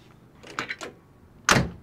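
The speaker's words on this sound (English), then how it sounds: "I got the door open." A few soft mechanical clicks of a 1968 Pontiac Grand Prix door latch, then a louder thump as the door swings open, with no talking.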